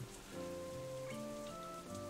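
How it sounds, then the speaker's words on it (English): Heavy rain pours steadily outside, a constant soft hiss under a sustained musical backing from the visual novel Katawa Shoujo, with no voices. "Rainwater is relentlessly pouring down from the blue-gray sky outside"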